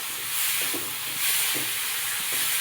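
Sprouted moth bean curry simmers and steams in a pan over low heat, giving a soft, steady hiss with faint crackles of sizzling, heard alone at low volume.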